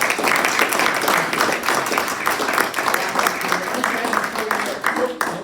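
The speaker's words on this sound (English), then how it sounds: "Big round of applause for our speaker." Audience applause for the speaker closing an architecture talk on Googie modern drawings, a steady wash of many clapping hands at moderate loudness throughout, with faint voices underneath.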